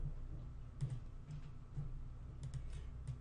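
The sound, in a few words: typing on a computer keyboard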